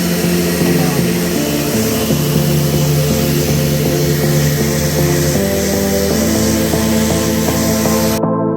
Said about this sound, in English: Rinse the snow foam off and then we'll put it back on again.